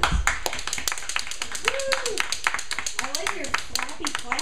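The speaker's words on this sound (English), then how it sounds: "Let's give it a round of applause." Scattered hand claps from a small open mic audience at Freddie's Place, irregular and fairly close, with voices speaking over them throughout.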